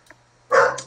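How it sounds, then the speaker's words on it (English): A single dog bark, close and loud, follows a faint short yip; a brief isolated burst with no talk over it. "Whose dog is barking?"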